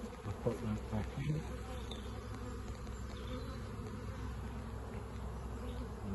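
A dense, steady buzz of many honeybees rises from open hive frames during a springtime apiary inspection, a close, continuous drone with a few faint handling bumps near the start.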